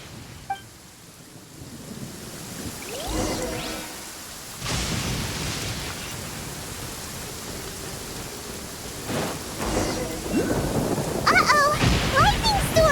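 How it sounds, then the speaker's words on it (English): A lightning storm in the video game Genshin Impact brings heavy rain and wind with several sharp thunder cracks and rolling booms. Some game effects and a voice can be heard over the storm. "Uh-oh! Lightning storm!"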